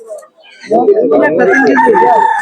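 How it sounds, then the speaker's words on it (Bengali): A rooster crows loudly and close by amid the bustle of a hill-country village poultry market, with clucking and other voices mixed in. "অনেক বড় টাইগার মুরগি উঠছে দেশি মুরগি আছে"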